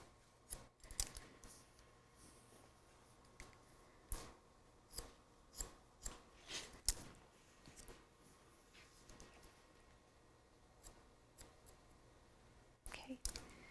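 Sharp scissors snip through hair while a classic bob is cut at the back, a quick series of close, crisp clicks spaced through the middle of the stretch, with a soft room hush between cuts.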